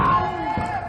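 Crowd at a small pro wrestling show yelling and hollering in a brief, moderately loud burst of mixed voices.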